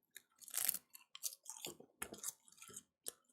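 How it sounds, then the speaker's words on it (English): Someone crunching on a sea salt snack up close, a series of sharp crisp bites and chews in irregular bursts with short quiet gaps. "Sounds crunchy."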